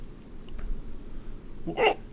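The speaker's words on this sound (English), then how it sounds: "Definitely not a good job for not getting rid of these hiccups." A single sharp hiccup bursts out near the end, close and fairly loud against a quiet, muffled background with no talk.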